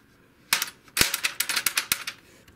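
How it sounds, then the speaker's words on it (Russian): Brother DCP-7030R printer with gears that fail to mesh, giving a fast irregular run of sharp, dry clicks and clacks. Close and fairly quiet, with no talking. "Вот эти вот шестерни, они почему-то не достают, и отсюда образуется такой звук."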